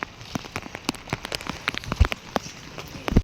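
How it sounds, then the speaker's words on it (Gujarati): Heavy rain falling steadily at Bor Talav lake, with a dense patter of drops and sharp close splashes and taps spread throughout, no voices. "બહુ વરસાદ આવ્યો, હવે આ બાજુ આવો."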